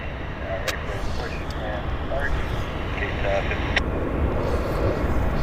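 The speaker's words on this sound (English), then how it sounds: "It's a Q400 landing." A Q400 turboprop airliner landing at Vancouver airport gives a broad, steady roar that swells gradually, while someone talks over it with radio chatter.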